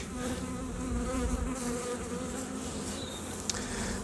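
Honey bees hum steadily around an open beehive, a dense continuous drone with nearby buzzing passes and one brief sharp tick near the end.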